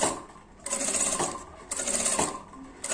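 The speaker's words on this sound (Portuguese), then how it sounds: "E faz só uma costura reta em todo esse comprimento." A sewing machine stitches a straight seam along a length of fabric, running in two bursts of rapid mechanical whirring with a brief lull between them, close and clear with no talk.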